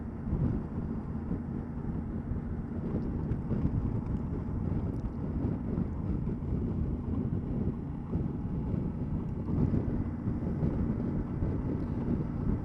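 A Yamaha TDM 900 motorcycle rides steadily, a continuous low engine drone blended with heavy wind rush buffeting the microphone, constant and loud throughout.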